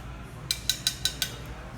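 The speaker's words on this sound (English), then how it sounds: "I'm going to take my spoon and give those a little mix on the bottom of my glass." A metal spoon mixes lime juice in the bottom of a glass for a cocktail, giving five quick, bright clinks at an even rhythm, close and fairly soft, over a quiet background.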